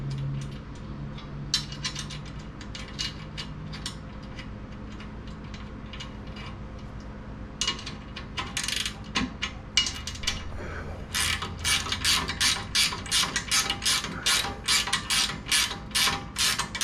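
A bolt is worked tight on a Barricade HD steel bumper being fitted to a 2019-2023 Ford Ranger FX4, giving a run of sharp metallic ratchet clicks that quicken into a steady rapid series near the end, close and fairly quiet.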